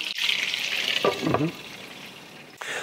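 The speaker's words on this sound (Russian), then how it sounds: "Обязательно закрываем крышкой и поджариваем, чтобы у нас появилась корочка." Meat patties fry in a pan with hot oil, making a steady close sizzle that fades partway through, with brief clatters of a lid or utensil in between.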